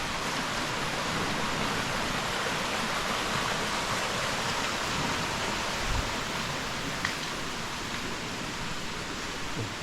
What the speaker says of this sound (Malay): depan ni ada sungai. Anak sungai lah.